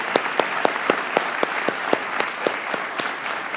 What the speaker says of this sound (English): Please join me in offering one more round of applause for the one and only Gilda